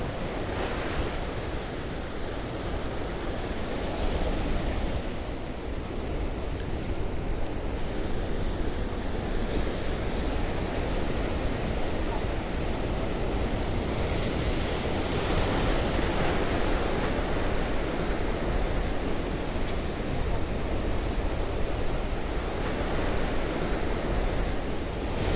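Sea waves crash and surge against rocks along a rocky shore at a fishing tournament, a loud, continuous roar of surf with strong wind buffeting the microphone throughout and no voices.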